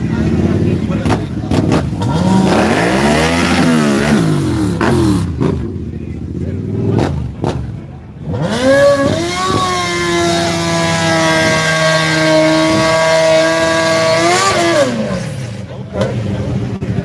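A drag-racing motorcycle at the Yello Belly drag strip revs hard, with loud rising and falling engine sweeps that climb into a sustained high-pitched wail, close by, while someone talks over it.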